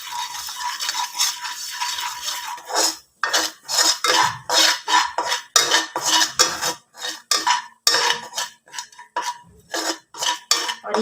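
A spoon or spatula stirs and roasts gram flour (besan) in a pan, giving rapid, rhythmic scraping and clinking strokes against the metal, close and fairly loud, with no voices.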